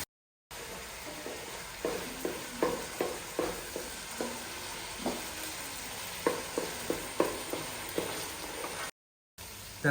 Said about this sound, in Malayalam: ഇത്രയും സാധനം ഇട്ട് ജസ്റ്റ് ഒന്ന് വഴറ്റിയെടുക്കുക